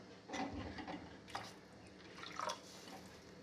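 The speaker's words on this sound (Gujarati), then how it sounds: "હવે થોડું પાણી નાખીશું" Water trickles and drips steadily into a pot of potato and amaranth-flour curry, with small splashes, close by and fairly quiet.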